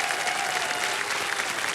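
A studio audience on the TV quiz show Kaun Banega Crorepati applauds, with steady dense clapping filling the room throughout.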